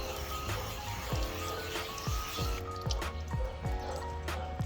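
Rainwater sheeting and dripping off a waxed car panel in a comparison of car waxes, with irregular close drips and soft liquid trickling over a steady wet background, no talking.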